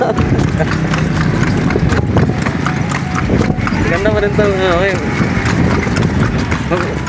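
Horse hooves clip-clopping in a steady rhythm during a ride toward a mountain area, close and continuous, with people talking over them and a brief whinny-like tonal sound in the middle.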